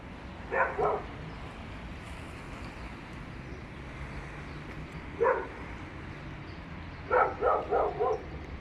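Dogs bark inside an apartment building: a short double bark near the start, a single bark midway, then a quick run of four barks at the end, all fairly loud over a steady low hum of distant traffic.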